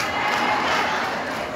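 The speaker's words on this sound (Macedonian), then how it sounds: "Дайте ме аплауз на Андре" An audience at a charity concert cheers and applauds for a volunteer named Andre, a brief, dense burst of crowd noise and clapping that swells and then eases off slightly.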